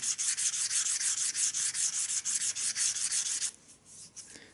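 Sandpaper rubbed by hand over the surface of a tanpura's jawari bridge, a steady run of close, rasping back-and-forth strokes that stops abruptly near the end, leaving a few faint scrapes.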